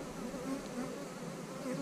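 Honeybees humming steadily inside a small two-frame nuc box holding a new queen, a close, continuous dense buzz with no talk.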